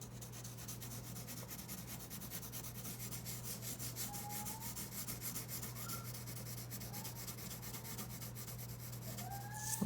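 Colored pencil shades paper with very light pressure: a faint, continuous soft scratching and rubbing that stays even and close throughout, over a steady background hum.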